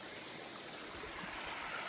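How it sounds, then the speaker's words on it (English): A mountain stream on the Appalachian Trail flows steadily with a broad, continuous rushing and trickling wash, close and even throughout with no voices. "found this great stream here"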